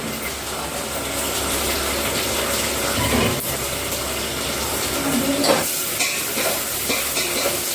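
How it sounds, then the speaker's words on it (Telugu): Onion fries in a pan with a continuous, fairly loud sizzle and steady crackle, with stirring scrapes briefly audible, and no speech. "ఇప్పుడు ఆనియన్ కొద్దిగా ఫ్రై అయింది"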